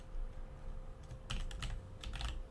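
Fingers tapping out code on a computer keyboard, a few quiet clustered keystrokes and short bursts of clicking against a low room hum.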